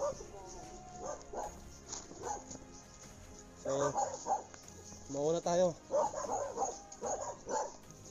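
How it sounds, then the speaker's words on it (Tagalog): Several dogs bark and yip along a rural path, sharp close barks coming in bursts and clustering near the middle and end, with a person talking over them at times. "daming aso"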